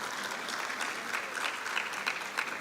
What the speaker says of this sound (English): If you can just give him a round of applause.